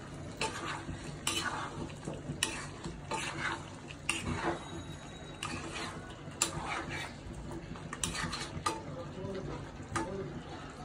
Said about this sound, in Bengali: আলুটাকে মিলাই নিব গোস্তের সাথে